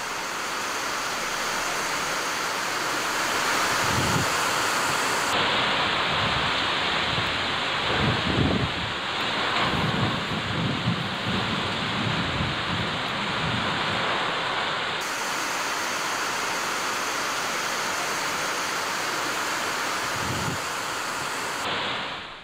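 Heavy unseasonal rain pouring down in a continuous broad rushing hiss, with a few low rumbling swells in the middle; no voices are heard.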